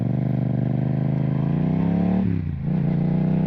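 A motorcycle engine revs up close and loud as it accelerates through the gears, a steady rising drone with a brief dip partway through as it shifts.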